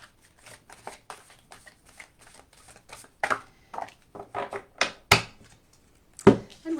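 An oracle card deck is shuffled in irregular riffling bursts that build in loudness, ending in a sharper snap as a card pops out, close and without speech.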